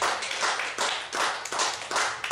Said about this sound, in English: Give the Lord a hand clap for us.